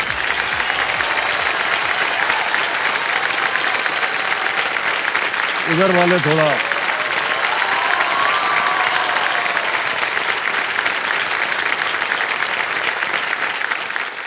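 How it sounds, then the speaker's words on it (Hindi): Studio audience on a TV quiz show set clapping loudly and continuously, a dense steady wash of applause throughout, with a voice briefly speaking over it midway. "इधर की जो जनता बैठी है ना, वो बहुत जोर से ताली बजा रही है।"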